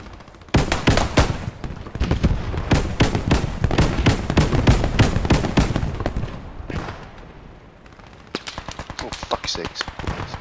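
Rapid machine gun bursts rattle in a World War II battlefield shooter, firing almost continuously for several seconds, pausing briefly, then resuming in another loud volley.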